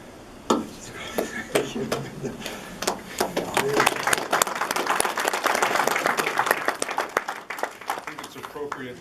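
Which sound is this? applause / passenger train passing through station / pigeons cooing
applause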